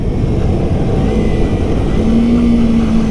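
A 300 cc motorcycle engine runs steadily and loud up close, a continuous droning rumble with a faint rising tone toward the end as revs build, with no voices over it.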